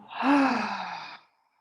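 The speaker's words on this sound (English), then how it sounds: "Big exhale out through the mouth." One big, breathy exhale pushed out through the mouth during a guided meditation breathing exercise. It is close and swells quickly, then tapers off over about a second before silence.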